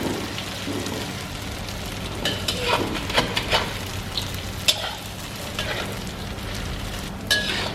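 Tofu frying in hot oil in a wok while making Thai crispy noodles, a steady dense sizzle with crackling pops throughout and occasional scraping from stirring, no talk.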